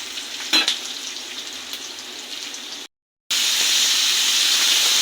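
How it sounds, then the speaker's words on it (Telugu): Tomatoes going into a pan of onions, green chillies and ginger frying for a paneer curry: a steady bright sizzle with an early clatter, a brief cut to silence, then a louder, fuller hiss. "ఇప్పుడు టొమాటాలు వేయాలి."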